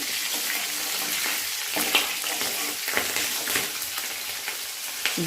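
Urad dal and green chillies fry and sizzle in hot oil in a pan for onion sagu. The crackle is steady, with a few soft stirring knocks and no voice.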